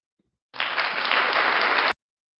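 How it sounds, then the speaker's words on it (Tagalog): A short, steady burst of clapping rises from downstairs, starting abruptly and cutting off cleanly after about a second and a half, with no talking over it. "May dinig yung palakpak ko dyan sa baba."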